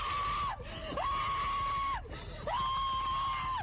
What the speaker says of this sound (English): This video contains so much loud screaming